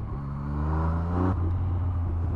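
A 2020 Yamaha MT-09 motorcycle engine revs hard and close, its pitch climbing steadily for over a second before dropping back off throttle to a lower steady drone.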